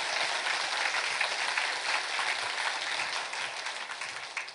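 Church congregation at a Friday worship service applauding together, a dense, steady wash of many hands clapping that fills the room and tapers slightly toward the end, with no voices over it.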